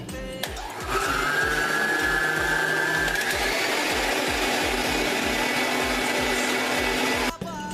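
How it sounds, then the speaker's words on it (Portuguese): Electric stand mixer beating eggs at room temperature for a sponge cake, a steady loud motor whir running continuously for several seconds after switching on, then stopping abruptly. "vou ligar aqui a batedeira"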